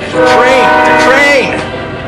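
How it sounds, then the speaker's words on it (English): A passing train sounds its horn in a long, loud, wavering blast that swells and then fades, heard close and dominating, with no other sounds over it. "the train always does that when I'm trying to make"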